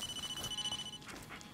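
Phone ringing in the video game Blair Witch: a thin, steady electronic ring tone trills for about a second over a dense, rustling forest background, then cuts off.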